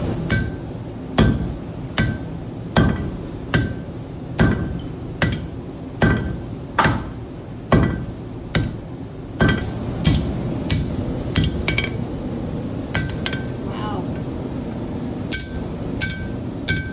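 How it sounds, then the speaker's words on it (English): A blacksmith's hammer rings on metal over an anvil in a sculpture studio. The sharp strikes come close and loud in a steady rhythm of about one per second, with faint clinks and workshop noise between them. "When I want to turn, I'll hit the anvil with my hammer to give them a breath so I can turn it."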